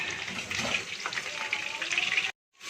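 Chicken pakoras deep-fry in hot oil with a crackling, bubbling sizzle close by, ending in a sudden cut to silence before a faint return.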